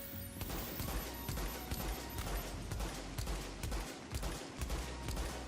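Scar H rifle fire in the video game The Division: rapid, sustained automatic bursts, loud and dense throughout with no talking.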